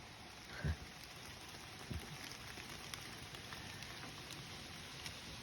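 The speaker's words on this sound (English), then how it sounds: "So it started pouring the rain" Rain pours steadily in autumn woods, a faint even patter across the whole stretch, broken by a couple of soft nearby thumps.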